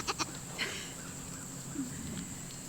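Goats bleat during an outdoor goat yoga session, two short close calls at the start followed by fainter bleats over a steady hum of crickets and insects.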